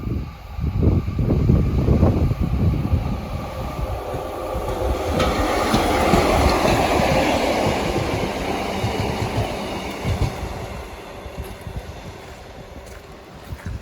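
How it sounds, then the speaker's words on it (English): A GWR Pacer diesel train passes near a beach, its broad rumble swelling and holding for several seconds before slowly fading, with rail clatter and wind mixed in. "I can see another Pacer about to come."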